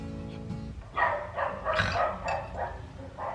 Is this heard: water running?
no